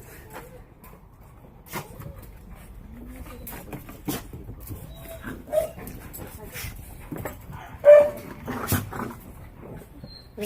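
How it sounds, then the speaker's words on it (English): Two dogs scuffling at home, with short sharp barks and yelps scattered through the clip, the loudest burst near the end, amid light background noise and faint bird cooing. "Two dogs trying to attack each other."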